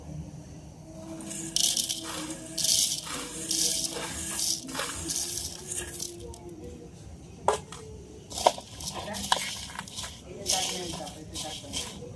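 Puffed rice (muri) poured into a bowl for jhal muri mixed with raw mustard oil, a rustling, crunchy patter that rises and falls in bursts, with a few sharper clicks and a voice talking throughout.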